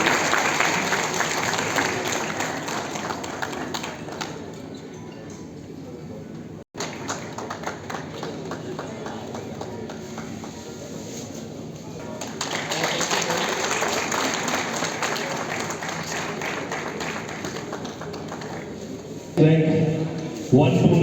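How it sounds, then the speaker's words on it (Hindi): Loud, sustained audience applause at an award ceremony honouring IAS 2023 rank holders, dense clapping filling the room for long stretches with a brief break and a louder swell near the end. "जोरदार तालियों से परिवार का अभिनंदन करें।"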